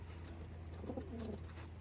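Soft, low racing pigeon coos rise briefly in the middle over a steady background hum, with no talking.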